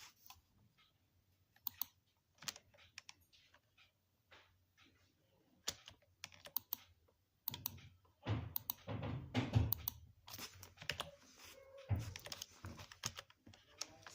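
Code being typed on a keyboard in short bursts of clicking keystrokes, sparse at first and then denser and faster, close and fairly quiet, with no talking.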